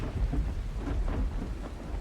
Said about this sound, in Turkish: ne yağmur yağdı. Ne gök gürüldedi.